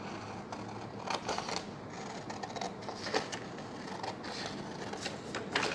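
Scissors cut a paper polar bear out from its drawing, giving a continuous series of soft, close snips and paper rustles under a faint background hum, with no talk.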